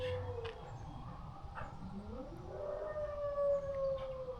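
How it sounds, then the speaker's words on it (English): A dog's drawn-out howl at an ambulance siren rises and wavers at a distance, blending with the faint siren tone in the background; quiet outdoor ambience throughout. "Do you hear the slight sounds of Moe's outside howling"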